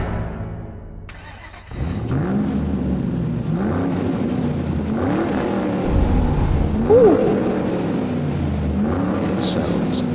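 A race car engine in the Team Sonic Racing video game revs and climbs in rising and falling pitch sweeps after a quiet start. It stays fairly loud and continuous.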